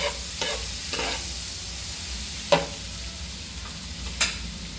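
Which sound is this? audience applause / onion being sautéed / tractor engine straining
onion being sautéed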